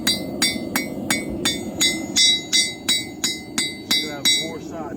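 A hammer forges a nail into a four-sided beveled edge with about eleven sharp, ringing strikes at a steady rhythm, and a low murmur sits beneath them.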